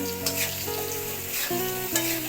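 Potatoes seasoned with salt and turmeric sizzle steadily in a hot pan, a continuous close frying hiss with a few stirring scrapes, alone with no talk.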